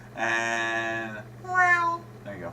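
A person imitates a cat, giving two drawn-out meowing cries in a row, the second rising and falling, followed by a brief voiced trailing sound, with short spoken words nearby.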